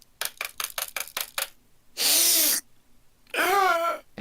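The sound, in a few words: cat in the background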